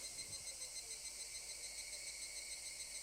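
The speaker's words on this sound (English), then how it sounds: "Only the cry of cicadas remained, annoyingly loud." Cicadas drone loudly and continuously in a summer scene of the game Higurashi, a shrill buzzing chorus pulsing steadily with no other sounds.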